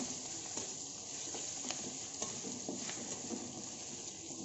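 Chopped ginger frying in a pan for khar bhat, a steady close sizzle with soft crackles and occasional stirring scrapes, no talk.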